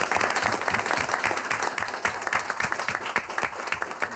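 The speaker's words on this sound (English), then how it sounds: "Round of applause." An audience at a county board of supervisors meeting claps steadily throughout, a dense, sustained round of applause at close range.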